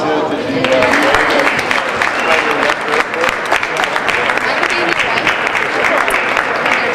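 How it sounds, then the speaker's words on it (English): A dinner event audience gives a loud, continuous round of applause at close range, steady dense clapping with a few voices mixed in. "Everybody can give him a round of applause."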